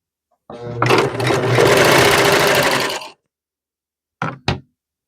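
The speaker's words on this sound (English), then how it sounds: "It sewed it and trimmed it and everything." A sewing machine stitches and trims fabric in one loud, steady run of about two and a half seconds, then two short knocking bursts follow after a pause.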